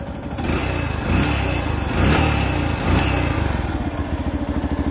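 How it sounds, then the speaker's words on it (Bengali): A Yamaha FZX motorcycle exhaust thumps close by, idling with a rhythmic pulsing beat and rising in a few short revs before settling back to a steady idle. "এটার এক্সোস্ট সাউন্ডটা আপনাদেরকে একটু শোনাই।"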